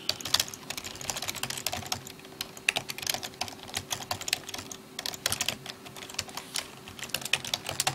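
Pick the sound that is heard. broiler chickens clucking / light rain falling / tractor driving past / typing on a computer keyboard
typing on a computer keyboard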